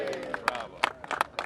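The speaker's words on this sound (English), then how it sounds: "Applause all around today at the unveiling of Metro's new bus line." Scattered applause and crowd noise at the unveiling of Metro's new 501 bus line connecting North Hollywood and Pasadena, with irregular claps over a murmuring gathering and some nearby chatter.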